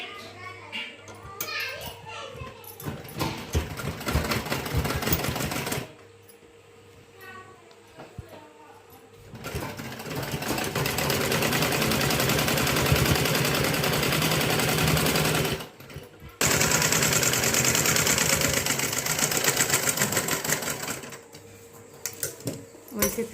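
A sewing machine stitches a blouse in loud, rapid bursts of whirring and clatter separated by short pauses, with a person talking and children's voices at times in the background.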